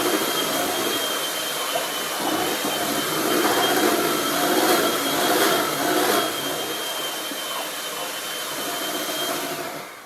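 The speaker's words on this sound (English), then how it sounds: "I'm gonna beat my yeast with my eggs" An electric mixer beating yeast with room-temperature eggs, a steady loud whirring drone that swells and eases as the beaters work through the batter, with no talking.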